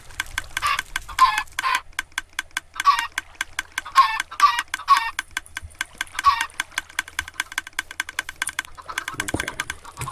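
Chickens in the video game Minecraft, heard as repeated clucks and squawks in a steady series of short bursts. They are loud and close, with a faint low hum running underneath and no talking.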